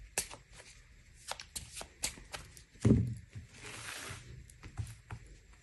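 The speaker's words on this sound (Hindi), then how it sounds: "जब तक कि मैं आपके कार्ड्स शफल कर रही हूँ।" Tarot cards being shuffled by hand at close range, a run of crisp riffling and flicking bursts with short pauses between them, plus one heavier soft thump partway through.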